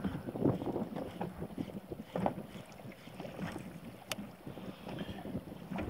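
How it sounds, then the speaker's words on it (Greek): Wave noise around a small fishing boat during light jigging at sea, a low, sloshing wash with wind buffeting the microphone, steady and moderately faint with occasional knocks and no speech. "Έχουμε και θόρυβο δυστυχώς λόγω του κύματος."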